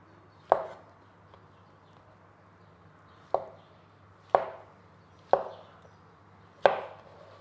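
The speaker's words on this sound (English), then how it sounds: "And we just slice them up like this thickness, and then they are ready." A knife slices mushrooms on a cutting board in five separate sharp taps spaced unevenly a second or more apart, close and crisp against a quiet room.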